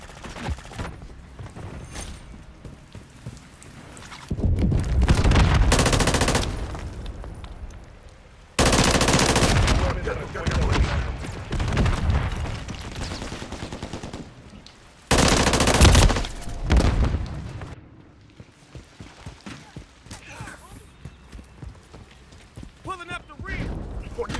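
Gunfire in Call of Duty Modern Warfare 3 on the Grime map comes in several long, loud automatic bursts separated by quieter stretches of game ambience, with a voice talking in between.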